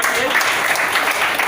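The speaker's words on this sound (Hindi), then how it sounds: "इनके लिए जोरदार तालियां होनी चाहिए।" Audience applause for a senior doctor at an event, a dense steady wash of clapping that fills the whole moment without a break.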